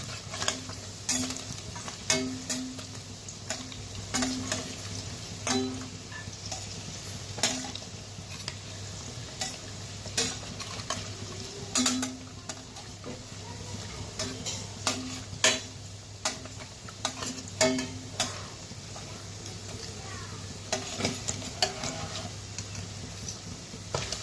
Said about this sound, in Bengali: ছানার পনিরগুলো ভাজা হয়ে গেছে